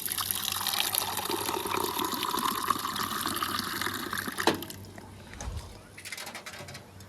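Water pours steadily outside a rural mud house as someone drinks. It gushes loudly and evenly for about four seconds, then tapers into a softer trickle and splashes.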